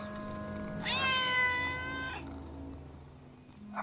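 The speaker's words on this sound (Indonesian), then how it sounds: "Suara kucing itu masih terdengar jelas." A single drawn-out cat meow, fairly close and clear, rising then sliding down, over a quiet indoor hum.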